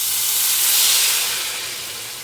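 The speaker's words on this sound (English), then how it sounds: "it's going to make a big sizzle" Fresh cream corn poured into a hot pan gives a loud, steady hiss and sizzle that swells, then gradually eases off, with no talking.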